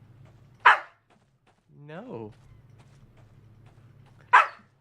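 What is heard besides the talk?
dog barking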